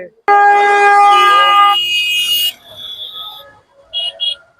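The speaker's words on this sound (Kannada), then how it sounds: "ಬೆಂಗಳೂರಲ್ಲಿ ನೀವು ಹಾಡ್ ಕೇಳಕ್ಕಿಂತ ಜಾಸ್ತಿ ಹಾರ್ನ್ ಸೌಂಡೇ ಜಾಸ್ತಿ ಕೇಳೋದಿಲ್ಲಿ." Loud, sustained vehicle horn blares out over Bengaluru's KR Market traffic, one steady multi-tone blast lasting about two seconds, followed by quieter street noise and two short honks near the end.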